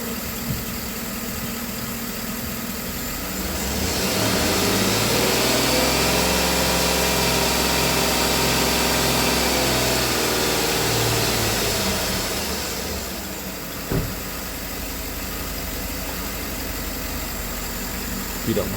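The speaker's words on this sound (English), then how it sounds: "I'm going to rev the engine up, see if it changes." A car engine with a suspected dirty mass air flow sensor idles, then revs up and holds at a steady high roar for several seconds before dropping back to a rough idle.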